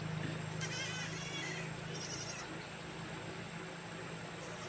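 Young goat kids being bottle-fed with milk let out faint, short bleats, heard mostly at the start against a steady, noisy outdoor background.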